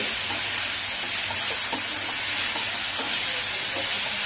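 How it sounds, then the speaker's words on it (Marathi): Tomatoes and masala are sautéed over half gas flame in a pan for methi matar malai, with a continuous close sizzle and soft scraping stirs throughout. "आता आपण टोमॅटो घालूया आणि चांगलं परतवून घेऊया"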